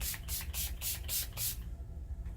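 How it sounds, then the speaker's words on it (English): Quick pumps of face setting spray, six short hissing bursts in a steady rhythm, close and fairly loud, then quiet. "we're going to spray our face"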